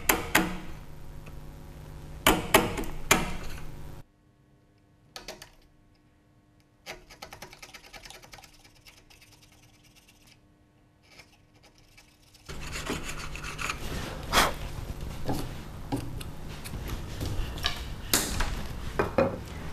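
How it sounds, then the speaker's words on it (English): A 6mm wood chisel pares waste from a cut in shoji kumiko joinery, making scraping, rasping strokes with sharp taps, then a quiet pause before the steady scraping starts again, close and without talk. "Once you've made your cut, remove the waste with your 6mm chisel."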